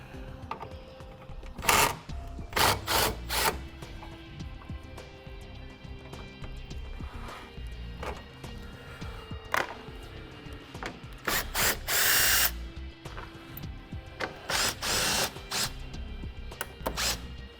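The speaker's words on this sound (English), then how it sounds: "Now we're going to remove the 3 10mm bolts." Ratchet wrench loosening 10mm bolts on a 2015 Jeep Cherokee, close mechanical clicking and ratcheting in short bursts with metallic clanks and a few sharp knocks between them, no voices.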